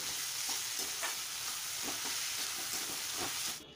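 Egg chowmein masala with chilli sauce and Maggi seasoning stirred in a hot pan: a steady, close sizzle of frying continues throughout, broken by repeated scraping strokes of a spatula, with no talk.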